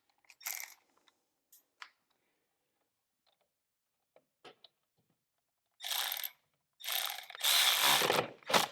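A ratchet tightens the battery terminal nut on a Craftsman R110 lawn tractor: a few scattered clicks first, then several close, loud bursts of rapid ratcheting toward the end.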